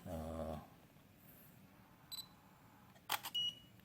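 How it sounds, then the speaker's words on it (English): After a short voice, a quiet room gives two brief, high electronic beeps a second apart from a Godox TT350 camera flash signaling it has recharged, with a soft click between them. "when it's fully recharged, then it will tell you with the beeping sound"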